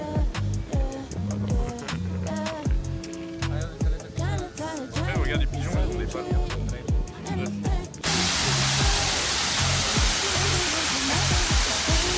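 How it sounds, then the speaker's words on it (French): A city waterfall pours with a broad, steady roar of rushing water, loud and close. It starts under busy music and voices, then takes over on its own for the last few seconds. "dans la ville, il y a une cascade"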